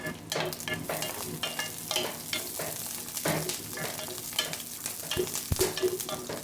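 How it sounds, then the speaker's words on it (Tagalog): Chopped onions sauté in a small amount of cooking oil at the start of a chicken tinola, a continuous close sizzle broken by repeated scraping and knocking of a spoon stirring the pan. "Ikasahin muna natin yung ating sibuyas."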